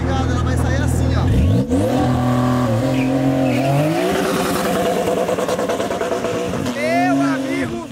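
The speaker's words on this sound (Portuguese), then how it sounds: "vocês viram o tanto de arrancada que eu fiz, o carro escorregando, cortando de giro" A Porsche launching hard: a loud, close engine roar rising in pitch, tires squealing as the car slides, and repeated bouncing off the rev limiter, with a voice faintly audible over the noise.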